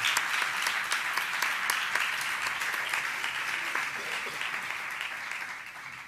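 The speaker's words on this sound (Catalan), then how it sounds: "per ells també un aplaudiment ben fort" An audience claps warmly at a conference on alternative penal measures, producing a dense, even burst of clapping with sharp individual claps that holds steady and fades slightly toward the end.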